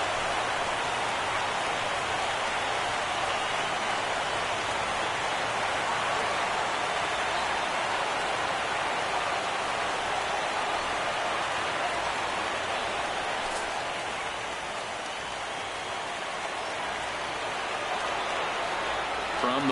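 Steady, dense hiss of rain falling in an MLB baseball video game on PS4, a continuous wash of noise holding at an even level throughout with no clear breaks.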